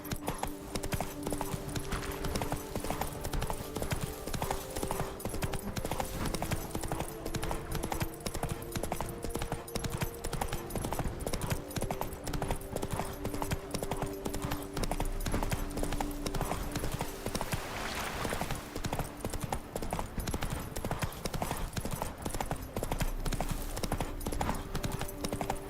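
Roach the horse trots in The Witcher 3 video game, a fast, steady clip-clop of hooves that keeps an even rhythm the whole way, with light game music faintly underneath.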